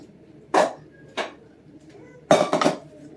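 A block of cream cheese is dropped into a pan, heard as a few clattering thumps and clinks of the pan and utensils, close and brief with quiet gaps between.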